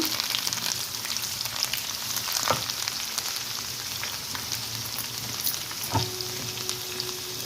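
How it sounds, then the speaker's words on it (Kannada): Fresh coriander leaves fry in hot oil for a raw mango chutney, giving a steady close sizzle with fine crackles and an occasional louder pop, without any voices. "ಕೊತ್ತಂಬರಿ ಸೊಪ್ಪು ಹಾಕ್ಕೊಡೋಣ ನಾವು ಇದೇ ಎಣ್ಣೆಯಲ್ಲಿ ದೂರ ದೂರ ಇರಲಿ ಸ್ವಲ್ಪ ಹಾಕುವಾಗೆ ಯಾಕಂದ್ರೆ ಅದು ಚಟಪಟ ಸಿಡಿ ಇರುತ್ತೆ"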